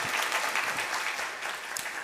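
Congregation clapping fills a church sanctuary at a Sunday service, a steady, moderately loud wash of many hands that thins slightly toward the end, with a murmur of voices underneath.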